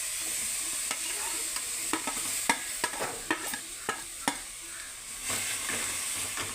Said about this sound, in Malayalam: നമ്മളെല്ലാം കൂടെ ഇതിട്ടിട്ട് നമ്മൾ ചെറുതായിട്ട് വതക്കി എടുക്കണേ.